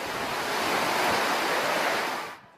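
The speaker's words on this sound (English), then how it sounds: "the staircase behind me is now basically a waterfall." Floodwater from Typhoon Haiyan pours down a staircase in the Philippines, a loud, steady, broadband roar like a waterfall that holds constant before cutting off near the end.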